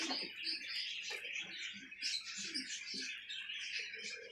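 Pet birds in a breeding setup chirp and tweet continuously, a dense overlapping chorus of small high calls close by, with no speech.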